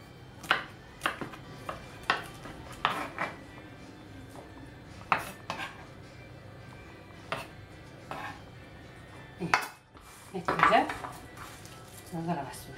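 Avocados, pineapple, crab and prawns being prepared in a kitchen, with irregular sharp knife taps and utensil clinks scattered over several seconds, close and moderately loud.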